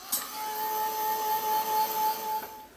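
A heat tool drying a craft project runs as a steady, close whirring hiss with a fixed tonal whine, starting abruptly and holding level for a couple of seconds before cutting off.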